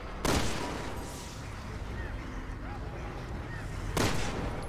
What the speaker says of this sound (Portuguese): Eu tenho que atirar também.